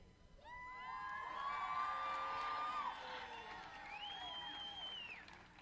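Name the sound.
crowd cheering for cosplay contestants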